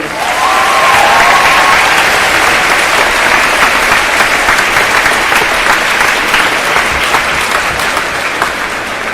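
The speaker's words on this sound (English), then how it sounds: "We give a quick round of applause for those people." Loud, sustained applause from a large audience at a high school senior recognition assembly, steady clapping that fills the whole stretch without pause.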